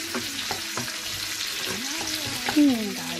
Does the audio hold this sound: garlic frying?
yes